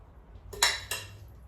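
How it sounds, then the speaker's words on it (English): A spoon or ladle scraping and clinking against a pan while sauce is spread over broccoli, gnocchi and onions, two quick metallic touches close by in a quiet kitchen. "we're going to just spoon it out and just literally ladle it across the top of your broccoli, your gnocchi and your onions"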